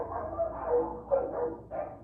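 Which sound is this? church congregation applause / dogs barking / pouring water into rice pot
dogs barking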